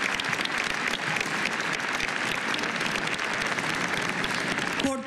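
A crowd claps steadily and densely throughout, a full sustained round of applause with no pauses, fairly loud and close.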